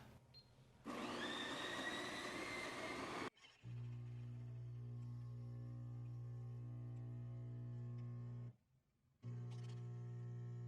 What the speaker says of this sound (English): I promised you a shot of espresso, so let's do that.